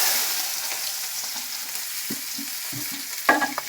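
Chopped onions fry in an oil-filled pan for a spicy brinjal masala, giving a continuous soft sizzle with a few sharper spoon-stirring scrapes and clacks toward the end.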